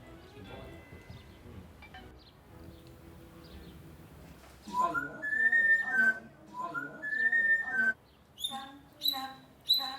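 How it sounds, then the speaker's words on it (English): Parrot whistling after sips of port, a series of clear, rising melodic whistles in bursts over the latter half, preceded by narration. "After just a few sips, the parrot starts whistling."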